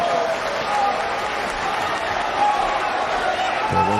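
Snooker crowd at a match applauding and cheering as a player nears a win, a broad steady wash of clapping throughout with a commentator's voice over it.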